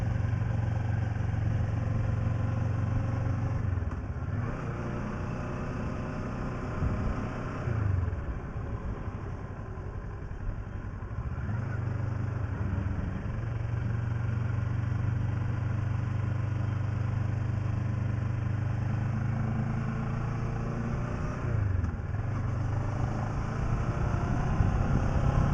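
A motorbike engine idles steadily, a close low rumble that holds an even pitch with a few brief revving shifts, alone without talk.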